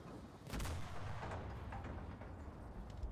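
A single heavy anti-tank gun shot in the video game Enlisted booms out, followed by a low rolling rumble that fades slowly; fairly quiet overall.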